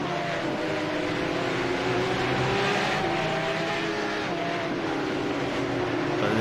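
Sim-racing Porsche race cars lap the Imola circuit in a video game, a steady loud engine drone with overlapping car whines shifting pitch as they run close together, no talk.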